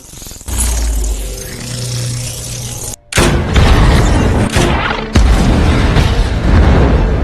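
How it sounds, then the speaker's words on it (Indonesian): Loud explosions boom and roar in succession, a heavy blast followed by sustained rumbling bursts and crackling debris, close and powerful. "Sarah langsung menembak si John hingga menimbulkan ledakan"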